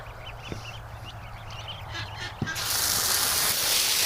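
Ducks and geese honking and quacking on a lawn, a few loud calls standing out near the start, followed by a rising wash of steady noise in the second half.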